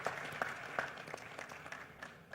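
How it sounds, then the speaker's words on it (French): Scattered applause from a conference audience welcoming a speaker at a keynote, a few distinct claps up front thinning into softer, patchy clapping, fairly quiet and roomy. "On l'applaudit, Monsieur Badou."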